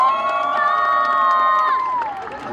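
An outdoor concert audience at Everland's Garden Concert cheers for the band's drummer, high-pitched shouts and squeals ringing out loudly and close, with sustained screams that taper off at the end.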